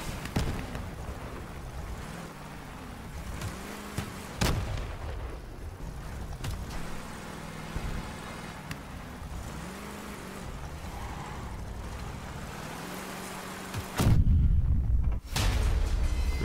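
Cannon fire and hits in the video game Crossout around an armored car build: repeated booming shots and impacts over a droning vehicle engine, with a loud heavy blast near the end.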